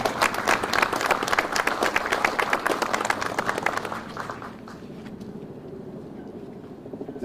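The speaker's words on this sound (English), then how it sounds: "let's give our men and women in blue a big round of applause" Audience applause for police officers at a Springfield event honoring a retiring police superintendent, dense clapping from a crowd for about four seconds, then fading to scattered claps and room murmur.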